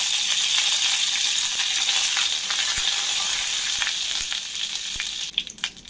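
Curry leaves hit hot coconut oil in a tempering of mustard seeds and dried red chillies, giving a loud, steady sizzle close by with scattered pops, easing off near the end.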